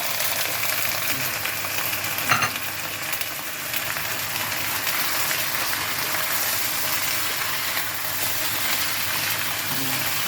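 Steady hissing sizzle of chicken frying in a hot pan, continuous and close, with a faint clink partway through.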